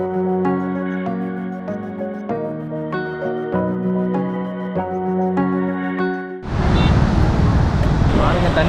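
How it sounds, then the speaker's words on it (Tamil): Music plays at first, then water from the gates of Mettur Dam on the Cauvery river breaks in as a loud, steady rushing roar for the last two seconds. "தண்ணி ஃப்ளோ எவ்வளோ போயிட்டு இருக்குது"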